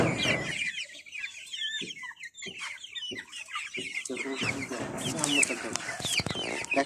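Brahma and other fancy breed chickens at a poultry farm near Rajshahi University, Bangladesh: a flock clucks and squawks continuously and close by, with repeated calls overlapping and a voice faintly mixed in.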